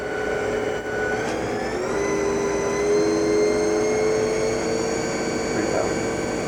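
A Haas TM-1 CNC toolroom mill spindle runs up in speed, a steady mechanical whine with tonal lines stepping and gliding higher over a constant loud machine hum.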